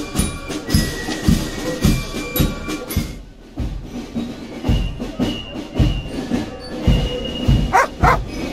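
A dog barks repeatedly in the video game Broken Sword 2.5, a run of sharp barks with short pauses, loud and close over background game sounds.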